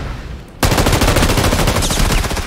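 Sudden burst of rapid automatic gunfire in the PUBG video game, loud and continuous after a brief quiet lead-in, the shots rattling in a fast, even rhythm.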